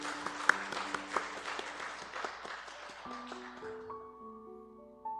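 A church congregation at a Sunday worship service claps for about three seconds, a soft, dense patter that fades out as sustained keyboard notes ring on alone.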